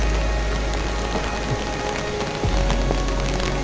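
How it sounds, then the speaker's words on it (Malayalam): Light rain beginning to fall in Tulian Valley, Kashmir, a steady soft patter spread evenly across the whole stretch with a low constant wash underneath and no voices. "ചെറിയൊരു മഴ പെയ്ത് തുടങ്ങിയിട്ടുണ്ട്."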